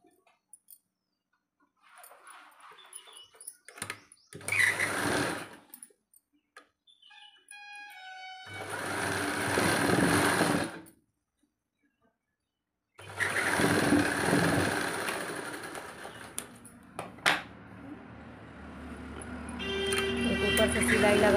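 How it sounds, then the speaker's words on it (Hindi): A sewing machine runs in bursts, stitching a strip along the top of a hook-and-belt crochet-strip blouse, its motor whirring loud and close between pauses, with someone talking quietly around the stitching. "इस तरह से ऊपर से सिलाई लगाएंगे"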